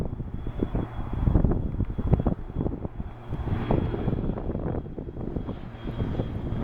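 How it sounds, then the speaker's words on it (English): A Piper Cheyenne turboprop on landing approach roars steadily overhead, its loud screaming turbine whine sustained with some wind buffeting on the microphone, heard outdoors at the airfield without talking. "Turboprops screaming for this little tiny airplane."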